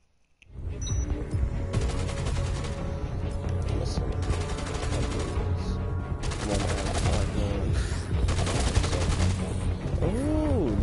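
Sustained heavy gunfire in Dead Rising 2 rattles on almost nonstop after a brief quiet start, loud rapid bursts layered with sharper shots and a whining tone near the end.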